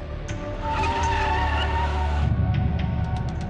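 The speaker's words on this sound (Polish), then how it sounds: "Uderza w nią samochodem." A car skidding with a long tire squeal and engine roar, ending in a rough thud-like impact and scattered noise, close and loud with no voices, staged as an effect of a car striking a person.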